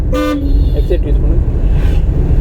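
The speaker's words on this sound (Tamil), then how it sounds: "ஹார்ன் அடிங்க." A car horn gives one short, loud toot from inside the car during a driving lesson, followed by engine and road noise with talk in the cabin.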